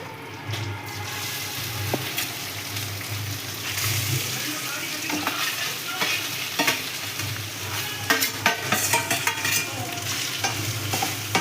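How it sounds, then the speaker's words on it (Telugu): Cooked rice is stirred into a pan of cumin and chilies frying in oil, giving a continuous sizzle with scraping spatula strokes and occasional clinks, growing busier toward the end. "మొత్తం జీలకర్ర మిరపకాయలు బాగా వేగితేనే టేస్ట్ బాగుంటుంది. నెక్స్ట్ అన్నం వేద్దామండి."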